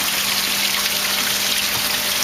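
Wastewater pumped through a 300 micron sieve screen in a recirculating tilapia fish-farming system, a constant loud rushing gush of water with a steady low hum underneath, unbroken from start to finish.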